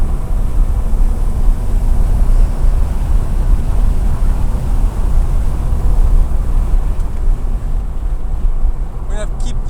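A modified BMW 335i E90 driven hard on the Buttonwillow track in 90-degree heat. Its engine roars loudly and steadily throughout while the driver short-shifts, with a dense low-end rumble and wind noise.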